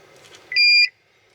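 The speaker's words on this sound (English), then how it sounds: "That beeped also." A Buick Enclave key fob sounds one sharp electronic beep lasting about a third of a second during programming, loud and close, following faint background noise in a quiet room.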